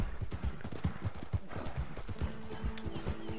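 Horse galloping under a rider in Red Dead Redemption 2, rapid rhythmic hoofbeats drumming close by, steady and quick, with faint game ambience and music behind.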